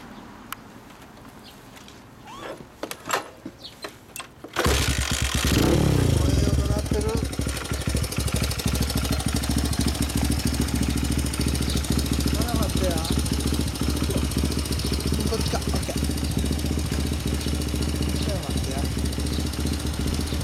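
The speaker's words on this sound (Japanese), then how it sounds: "エンジン音聞かせてくれる？" A modified Honda Ape 50cc motorcycle fitted with a full Yoshimura exhaust starts up loud and close after a few quiet clicks, then settles into a steady, raspy idle that runs unbroken for the rest of the stretch.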